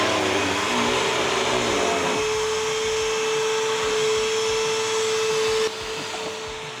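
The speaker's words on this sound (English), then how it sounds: "I brought my mini-me out to vacuum the top of the workbench mid-clean sesh." A small vacuum cleaner whines steadily as it cleans the top of a workbench in a makerspace, a loud continuous motor tone that drops in pitch and volume near the end.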